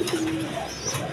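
A pair of blue shirting pigeons coo softly, a brief, close burst of low cooing over faint background noise.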